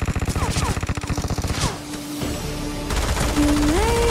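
Rapid automatic gunfire in PUBG Mobile, loud and continuous bursts of shots over game sound effects and tonal beeps, with a short lull before firing resumes.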